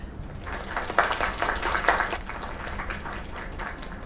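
Crowd applause in the video game Lake, a steady wash of clapping from a small group with a couple of louder bursts, sustained throughout without talk.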